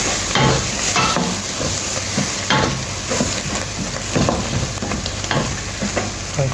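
Mint and coriander leaves with spices are sautéed in a pan for masala chicken biryani: a loud, close frying hiss broken by regular scraping stirs of a spoon against the metal.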